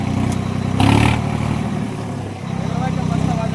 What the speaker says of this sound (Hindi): ये देखो भैया आवाज़ सुनो ट्रैक्टर की